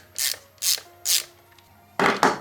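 A ratchet works a T20 Torx bolt on the back of a Smart 451 blower motor housing. It gives three separate clicking bursts, then a quicker double burst, close and crisp with no talking.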